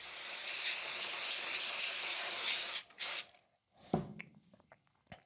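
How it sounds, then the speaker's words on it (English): Brake parts cleaner sprays in a loud, steady aerosol hiss onto a rifle's competition trigger, running for nearly three seconds, then breaking into a few shorter bursts with light handling clicks between. "give it a good spray down."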